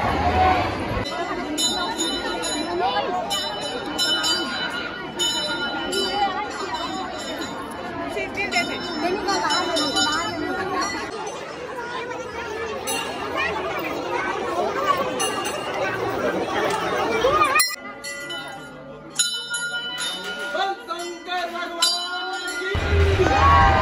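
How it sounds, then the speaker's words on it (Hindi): Dense crowd chatter fills a packed Hindu temple during the Kanwar Yatra pilgrimage, with many overlapping voices, occasional bell rings and clinks, and a sudden drop to quieter babble near the end. "हम मंदिर के अंदर प्रवेश तो कर चुके हैं लेकिन भीड़ बहुत ज़्यादा है"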